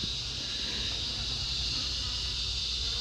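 Bees buzz steadily around a backyard hive with the nest left undisturbed, a continuous close hum of many insects holding at an even level throughout, with no talking.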